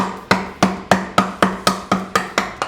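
A mallet strikes a wood gouge again and again while carving a guitar body from a kit. Eight or nine sharp, evenly spaced knocks come close and loud, each ringing briefly, with no talk.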